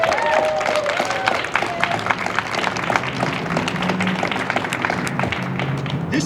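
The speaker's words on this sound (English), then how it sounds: "I just want to give a round of applause for all of them who are here" Dense applause from an audience at a community gathering of leaders and legislators on record high utility bills, steady and fairly loud for several seconds, with faint voices mixed in.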